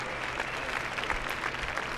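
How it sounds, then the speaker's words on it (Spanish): Steady, full crowd applause at a tennis match in the video game Top Spin 4 keeps a dense, even roar of clapping going throughout, with no voices heard. "ahí está el público. A tope aplaudiendo"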